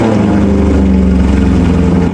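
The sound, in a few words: Maserati GranTurismo engine starting, straight pipes, no back box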